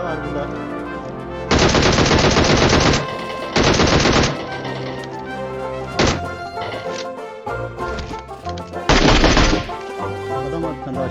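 Loud bursts of automatic gunfire in PUBG Mobile, several rapid strings of shots at close range separated by brief pauses and a few single thudding shots, with game sounds between.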